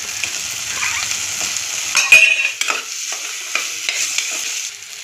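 Ginger garlic paste and potato sautéing for mutton curry, with a steady sizzle broken by a few loud scraping stirs of a spoon in the pan near the middle, and no one speaking.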